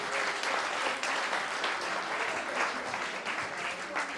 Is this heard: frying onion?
no